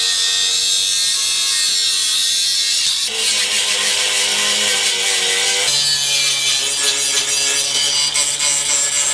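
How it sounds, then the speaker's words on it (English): A saw cuts through a steel rear trailing arm in a garage workshop, a loud, harsh, continuous rasping grind that shifts pitch partway through, with no talking. "So now I just gotta cut it."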